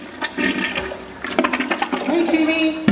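A toilet in a new condo flushes loudly and close by, with rushing, gurgling water that swells toward the end while a voice talks over it.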